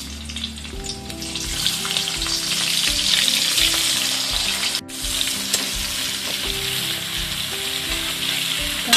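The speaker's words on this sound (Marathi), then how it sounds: "आता कढईत तेल टाकलंय गरम करायला, आता कांदा टाकून घेऊया।" Chopped onion fries in hot oil in a kadhai for chicken biryani, with a loud, steady crackling sizzle up close and rhythmic stirring scrapes cutting through, plus a brief dip midway.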